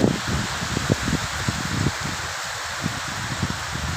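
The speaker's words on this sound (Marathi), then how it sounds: "जोरात पाऊस चालू आहे बघा आमच्याकडे" A dense, steady downpour of heavy rain hisses close by on a farm, with scattered louder drops pattering on a nearby surface.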